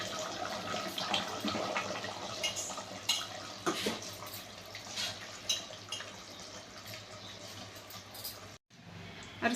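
Rice poured into a pot of fiercely boiling water while cooking chicken biryani, giving a steady close hiss and bubbling with light scattered clatter, no talking.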